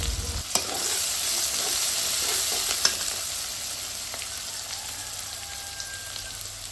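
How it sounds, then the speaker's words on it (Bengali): Steady, loud sizzling of onions and chilies sautéing in a hot pan, with faint scraping as they are stirred; no voices. "মরিচ পেঁয়াজ দেওয়ার পরে আমরা আর একটু কষিয়ে নেব"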